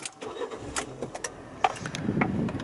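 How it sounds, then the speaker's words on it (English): A manual Fiat 500 1.2 Lounge with a 69 bhp engine is started with the key: a few clicks and a jangle of keys, then a short crank as the engine catches and settles into a steady idle nearby. "Let's pop the key in and start the car up."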